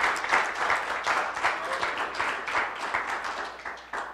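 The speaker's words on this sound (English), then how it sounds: "Let's give him a round of applause." A room of people applauds a guest being honoured at a customer service awards event, many hands clapping together in a lively, uneven burst that starts strong and then thins out toward the end.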